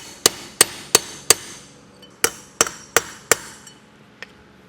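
A hammer strikes to drive out a bearing race from a car hauler trailer hub, eight sharp metallic blows in two quick groups of four, close and loud, with a fainter final tap.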